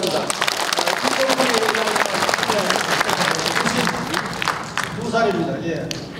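At a 2022 ethics and morality ceremony hosted by the Damsuhoe association, a hall audience gives steady, loud applause that fills the whole stretch, with voices and crowd murmur mixed underneath.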